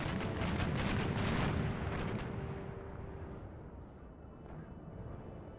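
Naval cannon broadsides from heavy first-rate warships in Empire: Total War roar in a dense, rolling cluster of booms that slowly fade into a lower rumble, with a voice talking over the battle.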